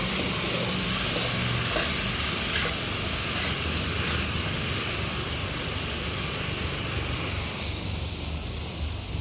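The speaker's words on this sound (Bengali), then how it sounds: "হলুদ দেবো, মশলাটাকে ভালোভাবে ভাজবো।" Spices with turmeric sizzle steadily in hot oil in a pan, a continuous dense hiss that stays loud and even from start to finish with no voices over it.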